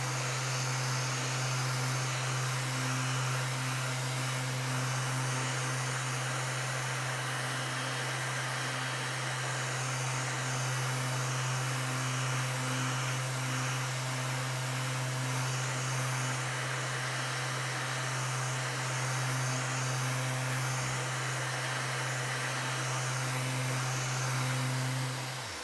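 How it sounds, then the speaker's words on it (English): A power sander works over a wooden jewellery chest, holding a continuous, loud, even whine with a steady motor hum beneath and no talk. "sand the whole lot"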